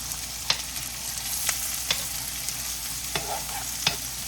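Butter sizzles with ribeye steaks in a hot pan, a steady hiss punctuated by several sharp pops and spatters spaced about a second apart, moderately close, with no one talking.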